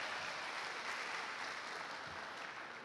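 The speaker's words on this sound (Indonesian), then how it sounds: "Tepuk tangan untuk Bapak Ibu sekalian." Steady broadband applause from a large seated audience at an indoor talk on creative education and diversity, continuous and even throughout with no voices over it.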